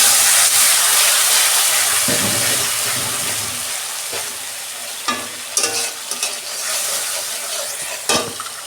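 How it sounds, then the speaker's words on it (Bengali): Spice paste and black cumin sizzle and spit loudly in hot oil in a home kitchen, a steady frying hiss with a few sharp clatters of stirring near the end. "এই যে মশলাটা করে রেখেছিলাম তেলে দিয়ে দিচ্ছি।"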